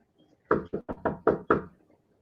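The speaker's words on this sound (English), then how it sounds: "the knock at the bedroom window" Six quick knuckle knocks on a bedroom window in a snowy night setting, in an uneven rapid series, close and fairly crisp, with nothing else around them.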